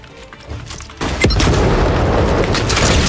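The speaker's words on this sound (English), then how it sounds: "it's so hard to hit your shots with this gun" Gunfire from a weapon in the video game Fortnite, a dense burst of loud booming shots that starts abruptly about a second in and continues without a break.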